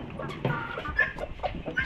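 A broody miniature hen clucks in a series of short, soft, close clucks with a low throaty quality, recorded on a small farm with quiet background noise.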